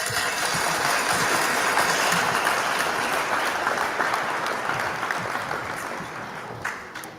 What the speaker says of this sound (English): Can we give a hand clap for the cops doing their job?